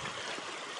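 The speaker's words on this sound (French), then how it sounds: "On traverse un beau petit ruisseau." A small stream flows steadily while being crossed on a winter camping hike at Mont Mégantic, a soft continuous rushing trickle heard close, with no voices.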